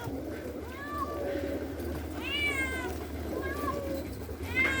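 A cat meows several times, drawn-out rising and falling cries at close range over a low background hum.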